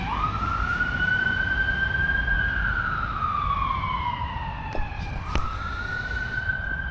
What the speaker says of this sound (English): It's an ambulance, I think.